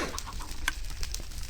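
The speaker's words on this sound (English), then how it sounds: "There's no seeds to feed the chickens." Chickens in the Minecraft video game, soft scattered clucks repeating in short bursts at low level, with no talking.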